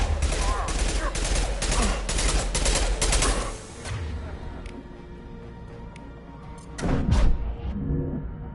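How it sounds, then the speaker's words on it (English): Heavy Mass Effect video game gunfire rattles as a rapid, loud volley of automatic shots for a few seconds, then sparser shots and another burst near the end. "Taking heavy fire!"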